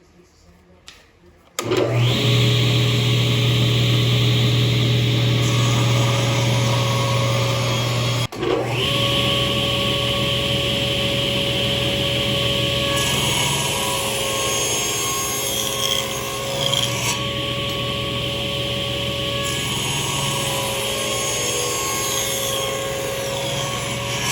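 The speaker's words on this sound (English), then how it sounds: "We're gonna run this through the table saw along these 3 lines on both sides" A table saw rips a wooden blank for a knife block along its lines, a loud, steady whining drone that starts abruptly and runs on with a brief dip partway through.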